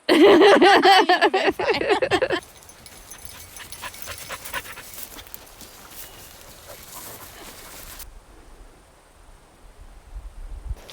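A dog pants rapidly and loudly up close for a couple of seconds, then quieter breathing and rustling continue before fading.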